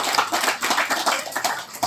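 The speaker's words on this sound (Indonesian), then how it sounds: "Tepuk tangan untuk beliau." A congregation at a dzikir manaqib gathering in a pendopo claps for a religious teacher after his sermon, a loud, close burst of many hands with a slightly pulsing, rhythmic patter throughout.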